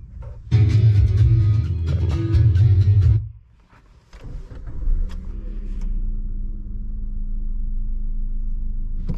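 A Maruti Ertiga CNG engine revs loudly for a few seconds, drops briefly, then settles into a steady idling rumble heard from inside the vehicle.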